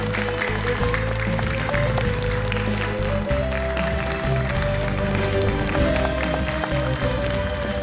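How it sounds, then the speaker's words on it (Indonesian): Studio audience applause fills a televised Indonesian Quran memorization competition, a dense continuous clapping mixed with music and crowd noise throughout. "Boleh tepuk tangan untuk Aqila."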